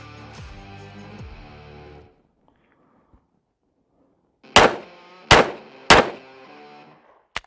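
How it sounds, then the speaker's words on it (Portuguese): Rapid gunfire at a target during shooting practice: after a brief tonal passage and a pause, three loud, sharp shots ring out about half a second apart, then a faint final click. "Vamos acelerar um pouco agora o nosso disparo."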